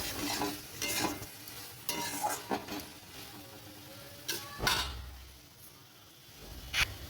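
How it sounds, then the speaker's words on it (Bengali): Chili powder is stirred into food frying in a pan for a village-style egg curry, with quiet sizzling under repeated scrapes and clinks of the spoon against the pan. "দিয়ে আবার ভালো করে নাড়াচাড়া করে নেব আর এর মধ্যে দেবো একটু লঙ্কার গুঁড়ো"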